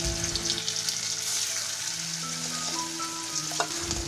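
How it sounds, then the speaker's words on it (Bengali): Sesame fritters deep-frying in oil, a dense steady bubbling sizzle close by with a light stir near the end, no voices. "জলখাবারে তিলের বড়া করে দিচ্ছি"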